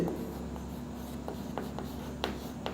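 Chalk or pen scratching across a board during a physics lecture on capacitance, giving short, irregular strokes over a steady room hum, with no voice over the writing.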